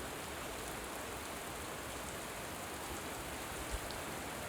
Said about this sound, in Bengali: দেখেন বৃষ্টি শুরু হয়ে গেছে।